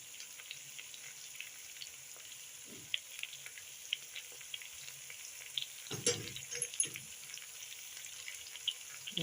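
Onions and pilau masala frying in a pot, a soft steady sizzle with occasional stirring scrapes and clinks, one louder clatter of utensil against the pot.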